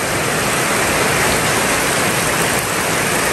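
Heavy rain pours steadily at a site where ceramic floor tiles are being laid, a loud continuous hiss filling the whole stretch with no voices.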